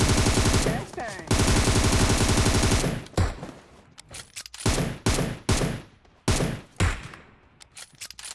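Gunfire in the mobile game PUBG Mobile: a long, loud, rapid automatic burst, then a string of shorter sharp bursts separated by brief pauses.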